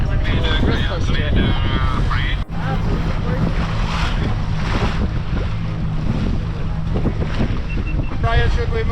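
Wind gusts roar across the sea near an Antarctic iceberg, buffeting the microphone beneath the hum of a boat, with people talking over it.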